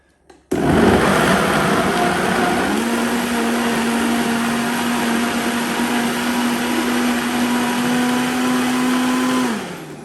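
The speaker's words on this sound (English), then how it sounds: "And let's blend." A countertop blender starts abruptly and whirs loudly and steadily for about nine seconds, pureeing roast vegetable and tomato soup, its pitch rising slightly partway through before it cuts off.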